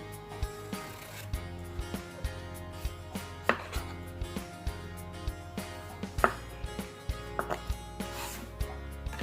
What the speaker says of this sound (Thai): ใช้มีดเอาเปลือกออกก่อน